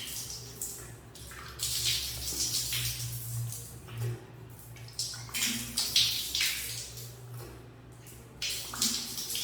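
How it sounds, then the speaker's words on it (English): Running water splashes as a face is rinsed at the sink, an uneven series of close splashes and trickles over a steady low hum, with no talking. "after I am done, the next thing I'm going to do is that I am going to rinse it off"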